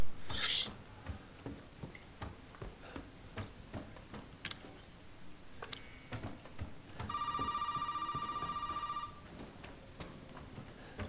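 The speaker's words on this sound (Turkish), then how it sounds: "Telefon." In the video game Resident Evil 7, a telephone rings in one steady electronic tone lasting about two seconds, heard amid ticking, clicks and scattered game sounds, with no voices.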